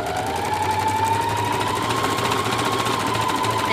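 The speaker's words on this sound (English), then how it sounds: "So you'll put your machine on a zigzag stitch and just very quickly go down it." A sewing machine runs a zigzag stitch down a seam of a peasant-style dress in one fast, continuous mechanical whir. It is close and loud, with no talking.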